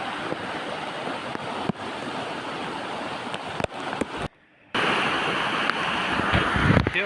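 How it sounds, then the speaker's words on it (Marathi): Floodwater rushing after heavy rain, a swollen stream pouring across farmland from several sides, makes a steady loud broadband roar with wind buffeting the microphone and a brief dropout midway. "हे बघा किती प्रेशर आहे. सगळीकडून पाणी जात आहे"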